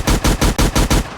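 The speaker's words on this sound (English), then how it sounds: "Why'd the gunshot turn itself back up?" Rapid automatic gunfire in an army video game, six loud evenly spaced bursts in about a second, close and with no voices.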